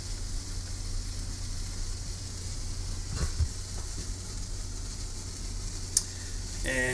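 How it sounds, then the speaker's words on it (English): Water heating for tea in a kettle or pot, a steady low rumbling hiss with faint bubbling that holds evenly throughout, close by, with a couple of brief clicks near the end. "boiling water."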